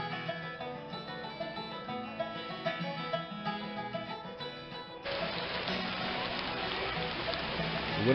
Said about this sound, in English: It wouldn't be Trail Days without some rain.